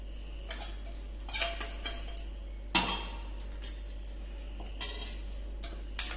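Corn patty ingredients with bread crumbs, coriander, spices, green chilli and ginger-garlic paste are stirred together in a bowl, a scattered run of close clinks and scrapes of a spoon against the bowl, with one louder knock midway.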